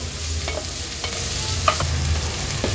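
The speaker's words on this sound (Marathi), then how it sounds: "कांदा आलं लसूण क्रश लो फ्लेमवर आपल्याला व्यवस्थित शिजवून घ्यायचं आहे" Onion with crushed ginger and garlic frying over a low flame for prawn rice, a steady close sizzle with a few light taps and scrapes of a spoon stirring in the pan.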